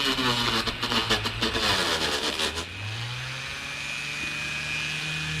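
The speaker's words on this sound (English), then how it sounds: "Just turn your Dremel on real low speed, and it'll slow down a little more once you press on it here" A Dremel rotary tool runs at low speed while carving wooden Christmas trees, giving a close, continuous motor whine that drops in pitch partway through as the bit bites into the wood.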